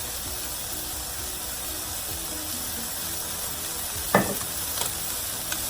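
Noodle stir-fry with shrimp, corn and oyster sauce sizzling in a single pan, a steady frying hiss with a couple of brief scraping clicks as it is stirred near the end.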